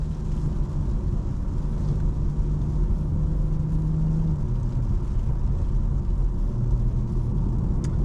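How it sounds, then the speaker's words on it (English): A stage 2 BMW M340i drives along a back road in the rain, its engine a steady low drone with constant road and tire rumble throughout, close and even in level. "Back road driving."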